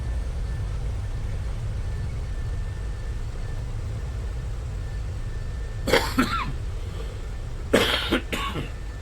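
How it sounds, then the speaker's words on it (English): A person coughs several times, two or three sharp bursts in quick succession over a steady low hum of a flight simulator session landing a DC-6A cargo plane. "Sorry about the cough."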